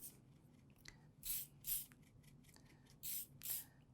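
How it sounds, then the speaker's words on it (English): Short hissing bursts of an aerosol spray lacquer lightly misted onto sugar-made bamboo, four or five brief puffs in uneven rhythm, close and fairly quiet, with soft handling noise between them and no talking. "we're going to very lightly spray this with a spray lacquer"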